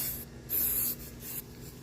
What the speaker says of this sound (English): We're going to be spray painting the front.